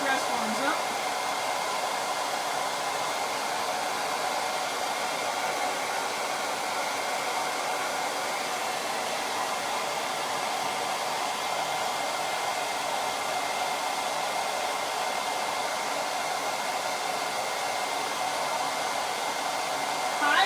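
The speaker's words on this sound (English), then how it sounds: "we're going to dry this with the hair dryer while the Easy Press warms up" A hair dryer runs steadily and continuously, drying an ink transfer on a shirt while a heat press warms up; a close, even blowing whoosh holds at constant level with no talk.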